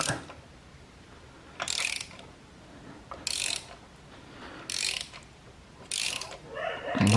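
A ratchet wrench loosens the spark plugs on a Peugeot 206 1.4i in a few short bursts of rapid clicking, separated by quiet pauses, close and fairly faint, with no speech.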